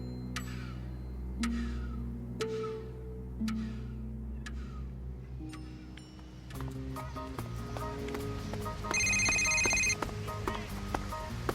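An old-style telephone rings in a quiet room within a radio drama, a sharp bell pattern repeating several times before dialogue-free background tones take over.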